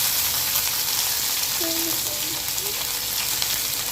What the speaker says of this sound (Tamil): கருவேப்பிலையும் பொரிஞ்சிடுச்சு, பூண்டு ஆட் பண்ணிக்கலாம்.